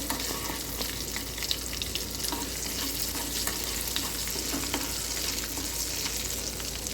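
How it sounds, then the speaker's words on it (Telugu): Two dried red chillies frying in a pan, a dense, even hiss of hot oil held at a constant level with faint crackles and light stirring scrapes, no voices. "2 ఎండుమిర్చి వీటిని కూడా బాగా ఫ్రై చేసుకోండి"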